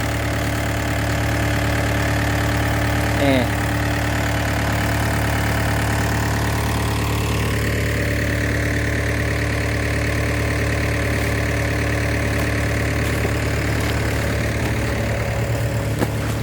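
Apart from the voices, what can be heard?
engine powering a sand tank pump at a work site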